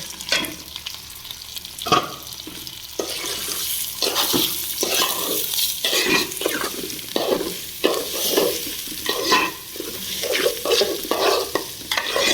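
Polao rice being stirred in a pot of hot fat, repeated rhythmic scraping strokes over a constant close sizzle, loud and busy throughout.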